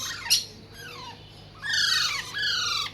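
Caged pet birds such as mynas, cockatiels, lovebirds, lories and sun conures at a bird market give several short squawks and chirps, moderately close, with quiet gaps between bursts.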